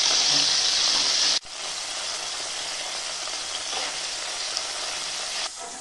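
Potatoes and cauliflower fry in a pan for a vegetable navratan dish, with a continuous hissing sizzle, louder at first, then settling into an even crackle with faint stirring.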